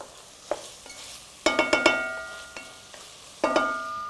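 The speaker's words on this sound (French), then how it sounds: "Je remue." A spoon scrapes and knocks against a pot of rougail saucisses, a handful of sharp metallic clinks and taps in quick bursts over a quiet, faint simmer, close up with no talking.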